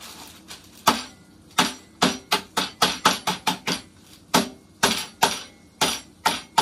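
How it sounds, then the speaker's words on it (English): Chunky hamburger ingredients being hammered to loosen them while making a burger, a series of sharp, close knocks in an irregular rhythm, some in quick bursts, with no talk. "I'm going to kind of hammer these because they're chunky"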